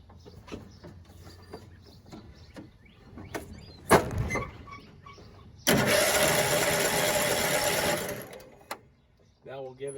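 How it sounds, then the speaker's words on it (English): A John Deere LT155 lawn tractor engine cranks and catches, roaring loudly and steadily for about two and a half seconds before cutting out, with clanks and a person talking around it. "see if she'll turn over now."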